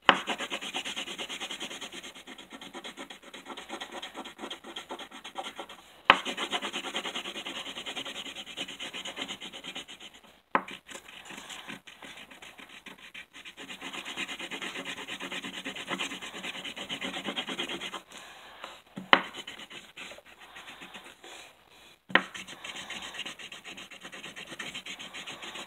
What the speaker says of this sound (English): I got a blue crayon right here, and I'll color it in.